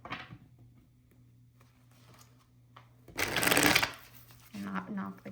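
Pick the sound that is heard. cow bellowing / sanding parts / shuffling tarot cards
shuffling tarot cards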